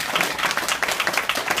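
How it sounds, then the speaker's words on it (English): A live audience claps in sustained, dense applause at a science demonstration, a steady close wash of many hands lasting the whole moment with no voices on top. "Why don't you give him a big round of applause?"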